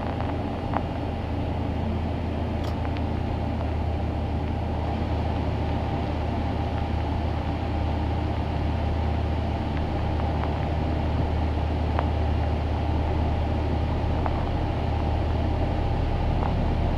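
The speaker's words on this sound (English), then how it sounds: "Start left engine." Boeing 777F cargo jet's left engine spooling up during start after pushback, heard from the cockpit as a steady, loud low rumble and hum with faint tonal whine above, continuous throughout with no talk.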